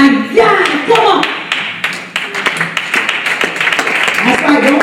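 Church congregation clapping during a Sunday sermon, a run of sharp, uneven claps over a preacher talking loudly and enthusiastically.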